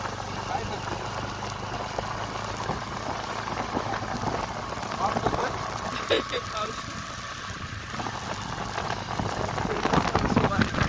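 Continuous rain falls over a hilly village in Satara, a steady patter on surfaces that lasts throughout. A voice can be heard faintly beneath the downpour.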